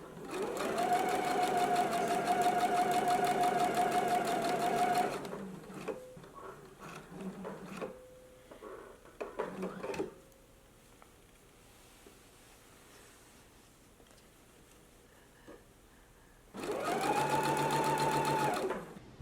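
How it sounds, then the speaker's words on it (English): A sewing machine stitches a neckline seam on a garment for McCall's M8312, running steadily for about five seconds, pausing with faint handling clicks and fabric shuffling, then running again briefly near the end. "So let's go ahead and sew our neckline in place now."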